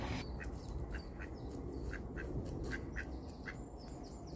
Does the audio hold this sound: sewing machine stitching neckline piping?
no